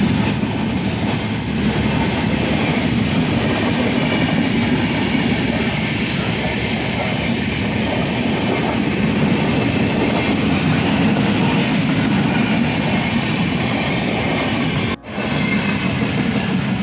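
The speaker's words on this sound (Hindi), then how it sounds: "यहाँ पे एक छोटा सा रेलवे क्रॉसिंग है और यहाँ पे हम खड़े हुए हैं, इंतज़ार कर रहे हैं ट्रेन का।" A train rolls past a small railway crossing, its wheels squealing loudly and steadily against the rails, with a constant rumbling roar close by throughout and no voices.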